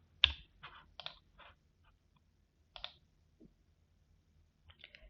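Sharp clicks of a computer mouse or keys, a few quick clusters with short gaps, close and quiet against a silent background.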